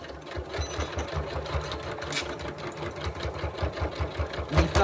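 A domestic sewing machine runs steadily while backstitching over a zip on a simple fabric pencil or makeup case, a fast rhythmic needle chatter up close that speeds up slightly near the end, with no voice over it.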